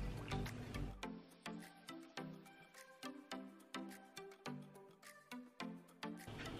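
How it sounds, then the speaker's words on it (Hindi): Water is trickled and dripped into Biotique face scrub being worked by hand, giving a series of soft wet drips and squishy pulses in a loose rhythm, close and quiet, with no talking. "बीच में आप थोड़ा सा पानी भी ऐड कर सकते हो"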